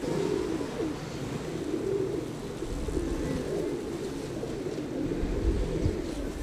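Low, throaty cooing of pigeons, a continuous murmur of several birds close by, layered over a steady low background rumble.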